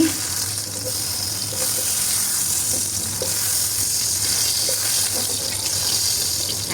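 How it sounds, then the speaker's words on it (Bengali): Chopped onion, green chili and garlic frying in oil in a pan, with a steady, fairly loud sizzle throughout and occasional soft stirring clinks, no talking. "এখন এখানে কিছু পেঁয়াজ কুচি কাটা পেঁয়াজ আর কি কাঁচা মরিচ একটু রসুন সব কিছু দিয়ে একটু নাড়াচাড়া করে ভেজে নিচ্ছি"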